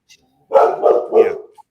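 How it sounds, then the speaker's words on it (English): A dog barks indoors, close and loud, letting out a short run of two or three rough barks that blend together before fading. "Sorry about the dog."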